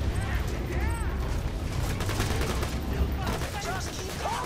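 Dense, continuous gunfire rattles throughout a firefight in the video game Borderlands 2, with rapid overlapping shots and occasional heavier impacts, loud and unbroken under faint talk.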